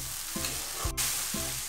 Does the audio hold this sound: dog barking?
no